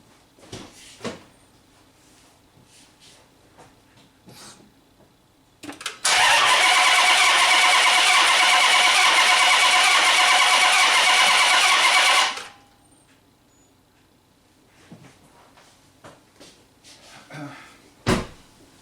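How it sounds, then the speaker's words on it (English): A Chrysler 300 engine with a misfire cranks steadily in clear flood mode for about six seconds without starting, a loud, even whirring grind between quieter clicks and knocks. "I'll do a clear flood mode and let you guys listen to cranking."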